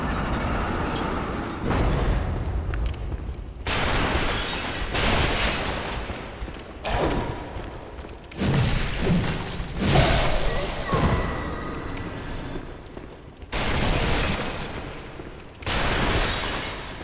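Explosions and fiery blasts in the video game Bloodborne, a series of loud bursts and booms separated by brief quieter gaps, with a player talking over parts of the action.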